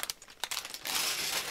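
A plastic bag of small Lego parts from an ice-festival set crinkles close by, a few sharp rustles giving way to steady crackling with no voices.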